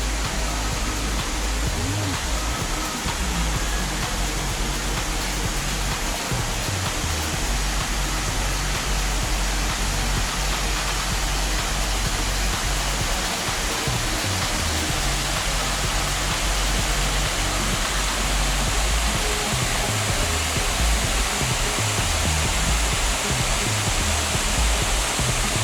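Water from Florence Falls spilling over the top of the rock wall at a modest flow, a steady broadband rush that holds constant and close throughout, with no talk.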